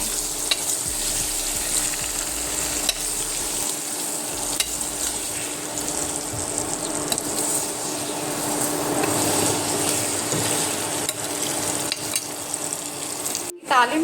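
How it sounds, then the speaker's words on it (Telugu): Pieces of brinjal and bottle gourd sizzle steadily in hot oil tempering for South Indian sambar, a close, continuous frying hiss with faint stirring, ending in a brief clatter. "సో ఈ ముక్కలన్నీ మనం తాలింపులో వేసేస్తున్నాము."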